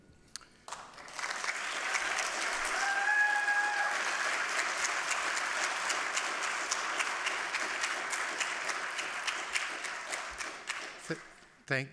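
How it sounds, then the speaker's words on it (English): Public meeting audience applauding after a speaker's comment, clapping rising quickly into a sustained crowd round of about ten seconds before thinning to a few scattered claps at the end. "I assume from that round of applause"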